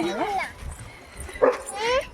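A dog at a pooram festival in a Kannur village gives two short bursts of high yips and whining cries, close by with a brief pause between them.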